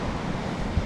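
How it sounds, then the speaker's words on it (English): Ocean surf surges and drains back down a steep, shell-free beach. The wash is steady and close, with some wind noise and a slightly stronger push near the end. "Waves just come up, pull them back down."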